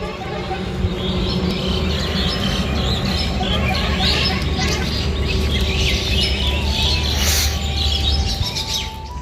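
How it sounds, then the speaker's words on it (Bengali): Small birds chirp faintly and repeatedly in a village in the early morning, their calls partly buried under a steady, loud background hum. "ভোরবেলাটা পাখির এই কিসমিস ডাকগুলো শুনলেই একদম প্রাণটা ভরিয়ে যায়"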